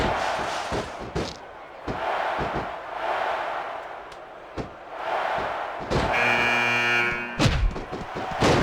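A video-game arena crowd from WWE SmackDown! vs. Raw 2006 roars steadily during a Royal Rumble match. Heavy slams and thuds punctuate the noise, and a sustained buzzing tone rises near the end.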